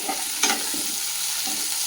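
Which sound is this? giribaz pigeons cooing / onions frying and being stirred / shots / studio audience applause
onions frying and being stirred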